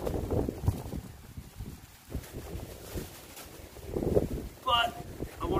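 Gusty wind buffets a tent while camping in a hurricane-strength storm, a continuous rumbling roar rising and falling in close gusts, with faint flapping and a brief voice near the end.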